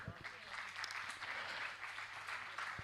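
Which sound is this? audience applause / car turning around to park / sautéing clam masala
audience applause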